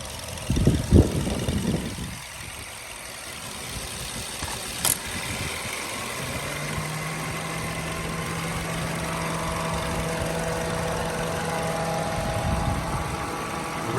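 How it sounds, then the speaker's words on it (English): The radiator cooling fans of an idling 2012 Mazda2 hatchback give a steady whirring drone over a low engine hum. A few clunks sound near the start, and no one speaks. "There's the fans running, or fan, maybe it only has one fan."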